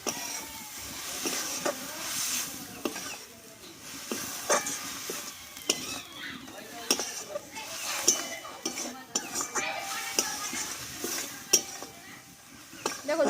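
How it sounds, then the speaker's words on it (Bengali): Shredded cabbage with fresh coriander leaves is stirred in a pan, a steady low sizzle broken by frequent clinks and scrapes of the spoon against the metal. "ধনে পাতাটা দিয়ে ভালোভাবে আমি নাড়াচাড়া করে নিয়েছি"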